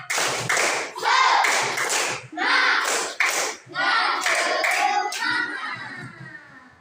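A class of sixth-grade pupils performs the tepuk semangat spirit clap, bursts of rhythmic group hand-clapping and thumping in several quick patterned sections with children's voices mixed in, fairly loud and close.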